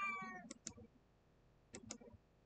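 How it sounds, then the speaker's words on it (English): A cat meows a few times softly in a quiet room, short separate calls with brief clicks between them. "my cat's meowing at me"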